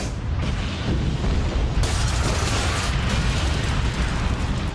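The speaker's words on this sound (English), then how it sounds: "Suddenly, a massive explosion rocks the plant." Massive blast at a large US oil refinery, rendered as a documentary effect: a loud, continuous roaring rumble that surges partway through and stays dense and heavy to the end.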